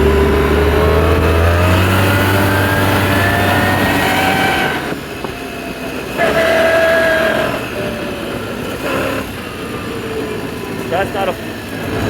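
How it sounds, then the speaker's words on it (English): A 2006 Polaris Sportsman 800 ATV being ridden: a loud engine drone that rises in pitch as it accelerates, eases off around the middle, then picks up again, with wind rush over the top. "So this four-wheeler's got plenty of power."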